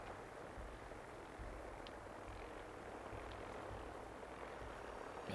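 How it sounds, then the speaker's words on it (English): Helicopters in the video game Fallout 4 produce a steady, fairly faint rotor and engine drone that holds for several seconds, with no talk over it. "There's just something so cinematic about the helicopters flying all around."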